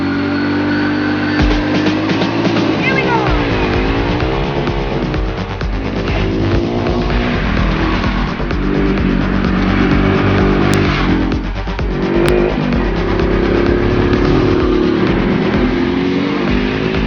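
Engine of a Spy Racing 350cc F1 road-legal quad bike with a Dongshun 350cc engine, revving up and down in steady loud surges with rising and falling pitch sweeps, running continuously throughout with no voices.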